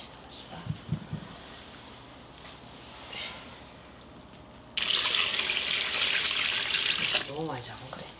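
Tap water gushes loudly into a bowl while water is added for yeolmu water kimchi, a steady splashing stream lasting a few seconds after a quieter stretch with faint speech and kitchen handling noise.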